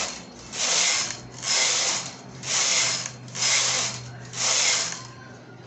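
Knitting machine carriage drawn back and forth across the needle bed at tension 6, five evenly spaced rasping, whirring passes about a second each with short pauses between, close and clear with no talk.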